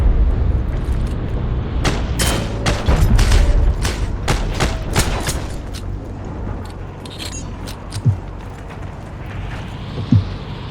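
Rapid pistol gunfire in the WWII shooter Heroes & Generals, a string of sharp, loud cracks in quick bursts over a rumbling battlefield background, then a few scattered distant impacts.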